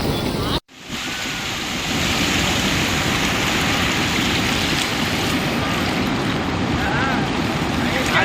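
Broad, steady roar of rushing water fills the scene, floodwater surging from streams overflowing after heavy rains in Aswaraopeta, Bhadradri Kothagudem district, Telangana, with wind buffeting the microphone and a brief dropout near the start.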